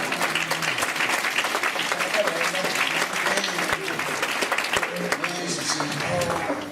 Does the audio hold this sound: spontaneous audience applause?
yes